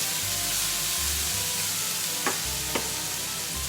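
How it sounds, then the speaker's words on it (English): Prawns fry in a pan with a steady, close sizzle that runs the whole time, and a couple of faint clicks sound partway through. "your prawns are still cooking in that"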